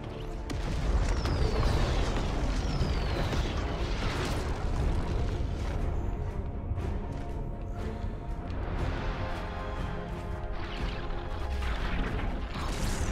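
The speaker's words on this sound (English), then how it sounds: "Oh, there's rockets coming out of every rift." Rockets and explosions erupt from rifts during the Fortnite Season X live event, a dense continuous barrage of booms, whooshes and crashes at steady high loudness with no speech.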